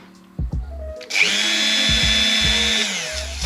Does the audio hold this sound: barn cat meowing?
no